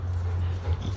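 A dog whimpers softly, giving a brief low whine close by for about a second, with no talk.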